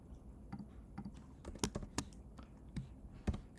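Quick, irregular keystrokes clatter on a computer keyboard, close and fairly quiet, with clusters of sharp clicks and brief pauses, alone without talking.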